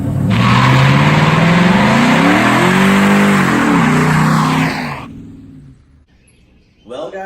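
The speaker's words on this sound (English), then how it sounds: "Would it do that violent, that great of a burnout had I not been running synthetic oil in there?" A pickup truck running synthetic oil does a violent burnout: a loud, sustained engine roar with screeching tires for about five seconds, then a sudden drop to quiet before a short revving burst near the end.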